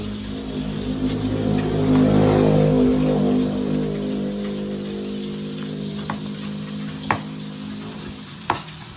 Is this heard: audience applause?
no